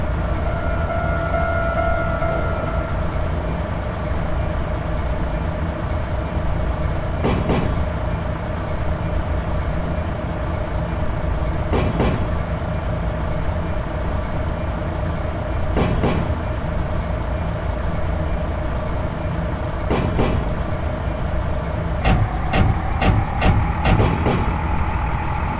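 A KiHa 185 series limited express Yufu diesel train running on the Nagasaki-Sasebo line in the Densha de GO! PRO2 game: a steady loud engine and rail rumble throughout, with periodic rhythmic clacks of wheels over rail joints and a tone shift near the end.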